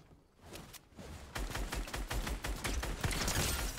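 Rapid gunfire bursts from a box fight video game, loud sharp shots in quick irregular volleys that grow denser and more sustained over the second half, with no talking.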